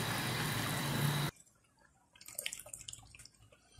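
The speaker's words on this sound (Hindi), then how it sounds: "केवड़ा वाटर 7 से 8 ड्रॉप्स डालें" Kewra water goes drop by drop into sugar syrup for shakarpara. A loud steady rush is followed by quiet, then a scatter of small close drips.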